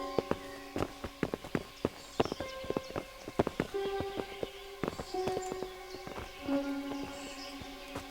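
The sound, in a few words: horses' hooves clip-clopping, from the video game Kingdom Come: Deliverance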